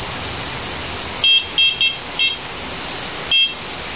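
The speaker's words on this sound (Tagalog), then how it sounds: "Meron din po itong kasamang busina." A small electronic horn on an accessory headlight kit sounds in short, shrill beeps, close and loud, about five bursts of varying length over a steady background hiss.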